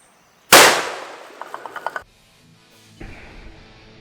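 A Savage 110 BA Stealth rifle in .338 Lapua fires a single loud, sharp shot at stacked concrete pavers, followed by a quick rattle of debris and a fainter rustle afterward.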